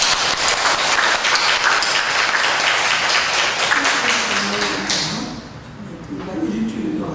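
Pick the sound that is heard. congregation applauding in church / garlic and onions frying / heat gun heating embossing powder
congregation applauding in church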